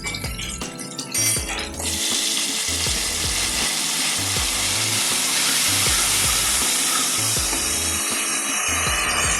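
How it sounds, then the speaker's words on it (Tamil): Onion and tomato sautéing in a pot for one-pot South Indian sambar rice, a loud steady sizzle with repeated scraping stirs and clinks of a spoon against the pan, no talking. "வெங்காயம் கொஞ்சம் வதங்கிட்டு வெங்காயம் இந்த அளவுக்கு வதங்கிருச்சு."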